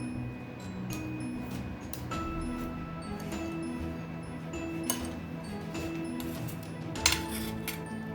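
A spoon or whisk stirs dark chocolate, fresh cream and butter in a bowl, producing a quiet run of light clinks and taps against the dish at an irregular pace, with a sharper knock near the end.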